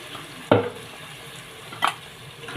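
Lamb pieces sauté in a pot with a soft, steady sizzle. Two sharper stirring scrapes stand out, one early and one later.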